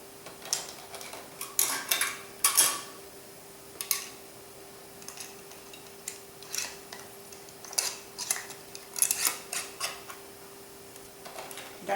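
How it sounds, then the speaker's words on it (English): Metal canning lids and screw bands, kept warm in simmering water, being placed onto jars of red wine jelly: scattered light metallic clinks and taps, close and fairly quiet, with a faint steady hum beneath and no talking. "now I'm going to put the lids on the bands"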